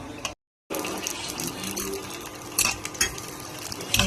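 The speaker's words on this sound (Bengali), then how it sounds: "লাল লাল করে ভাজতে, তাহলে শক্ত শক্ত হবে," Fuchka puris frying in hot oil in a home kitchen, with a steady broadband sizzle and a few sharper clinks and splashes, close and continuous after a brief gap near the start.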